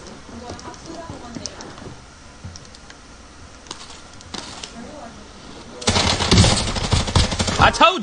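Rapid bursts of gunfire from a shooter video game crackle through the second half, loud and dense, following quieter scattered shots and clicks, with someone talking over parts of it.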